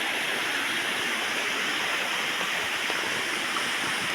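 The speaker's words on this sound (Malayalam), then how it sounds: "ചെറിയ തോടാണ്, കൈത്തോട്." A small hand-dug stream flows steadily past a rural village path, producing a continuous, even watery rush with no breaks and no voices.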